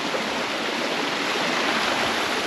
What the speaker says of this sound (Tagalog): Yan, ito na yung falls.